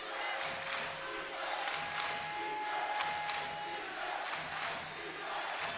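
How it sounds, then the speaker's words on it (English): A home crowd at a women's college basketball game, George Fox against Linfield, keeps up a steady roar and chant through the fourth quarter, loud and continuous with no clear break. "House of Hustle crowd chanting defense"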